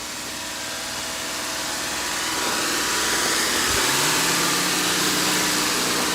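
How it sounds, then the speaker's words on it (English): A car engine idles steadily outside, supplying power through a 1000 watt pure sine wave inverter to run a forced-air gas furnace; the low, even hum holds throughout with a brief low thump near the middle. "runs all the way over to my car that you can hear running"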